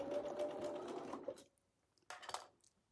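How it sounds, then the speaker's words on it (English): A sewing machine runs a short close burst while stitching pieces of a scrappy Wedding Ring quilt, then stops, followed by a few soft handling clicks in a quiet room. "we'll sew that last bit."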